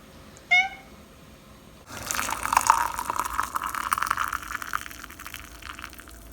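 A single short meow sounds close by, followed by a stretch of running water gushing steadily.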